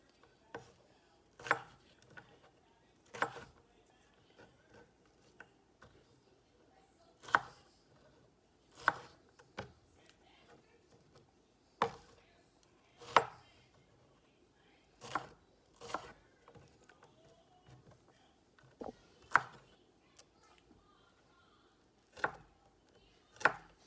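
A knife chops Anaheim pepper on a cutting board in sharp, close, evenly spaced strokes, about one every second or two, with quiet gaps between and no talking.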